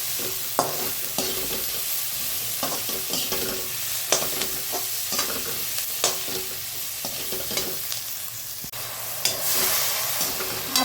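A brinjal mixture stir-fried in a pan for a vangi fry dish, close sizzling broken by repeated sharp spatula scrapes and clacks at an irregular rhythm, with no talking.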